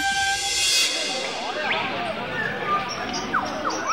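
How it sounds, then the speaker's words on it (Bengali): A train arriving at a station rumbles along, with scattered squeals and whistle-like tones rising over a steady mechanical wash. "ট্রেন এসে পড়েছে"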